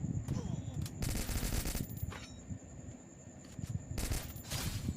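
Bursts of automatic gunfire in a battle royale video game fire close and loud in several rapid volleys separated by brief quieter gaps.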